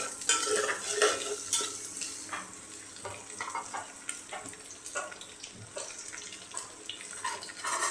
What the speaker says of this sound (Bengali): পেঁয়াজ কুচি দিয়ে একটু নেড়ে দিচ্ছি আমি